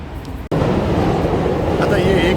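Shinkansen bullet train running on an electric line near Tokyo Station, a steady loud rumble and rush of wheels on track after a brief cut, continuing throughout.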